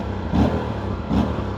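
An Aprilia RS 457 two-cylinder motorcycle engine idles nearby and is revved twice in quick, short bursts, each swelling and then dropping back.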